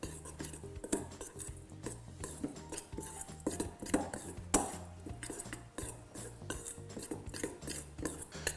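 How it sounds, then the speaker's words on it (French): A utensil stirs and scrapes tuile batter with parmesan and ground coffee in a bowl, giving steady, rhythmic clinks and scrapes that stay close and clear with no talking. "on n'a plus qu'à venir mélanger le tout avec le parmesan, le café moulu"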